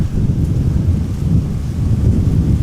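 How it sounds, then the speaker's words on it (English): Steady outdoor wind at Amsterdam Schiphol Airport, a mild breeze, heard as a continuous low rumbling buffet that stays fairly even across the whole stretch. "the wind today is nothing but a slight breeze"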